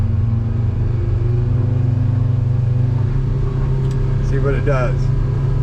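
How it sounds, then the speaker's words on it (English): A boat's port outboard motor drones steadily at low pitch, loud and close, on a 26-foot Seasport fiberglass boat during a water test, while someone speaks briefly over the engine near the end. "Now I'm just running off of the port motor."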